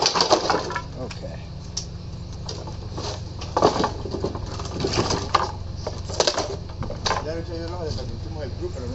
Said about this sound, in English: we smashed up some of the bigger pieces.